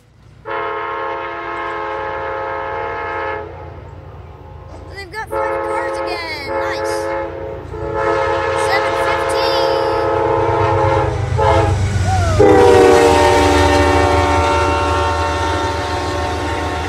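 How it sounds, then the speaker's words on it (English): Amtrak 283 Empire Service passes a viewing platform with its horn sounding in long, loud blasts over the rising rumble of the approaching train, ending in a close roar as it goes by. "Here's the Amtrak! This 283 Empire Service."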